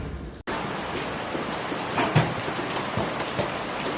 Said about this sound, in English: the rain was coming down sideways